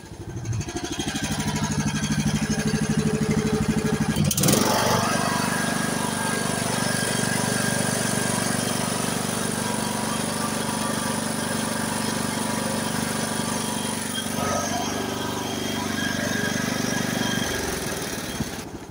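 A repaired MTD lawn tractor engine runs steadily and loudly throughout, with a brief knock or clunk early on and the motor winding down at the very end.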